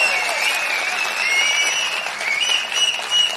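A crowd at a large political public meeting in Sivakasi claps in sustained, dense applause, steady and fairly loud throughout with no voices standing out.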